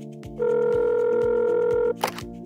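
A telephone hotline call: a brief burst of dialing tones, then a loud, steady ring tone holding for over a second before cutting off into a short click and a faint low hum, with no voices.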